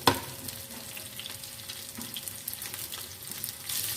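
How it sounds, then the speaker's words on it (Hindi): Qeema kebabs sizzle steadily in a pan of oil as the second side fries, a dense crackling hiss with scattered pops and one sharper burst at the start, close and fairly loud throughout. "अभी हम दूसरी साइड से भी कबाब को फ्राई कर लेते हैं।"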